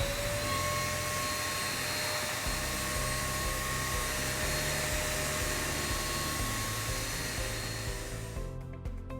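A Eureka Forbes Super Clean vacuum cleaner, its hose fitted with an upholstery cleaner and a white cloth, runs on a sofa with a loud, steady whining roar that cuts off just before the end.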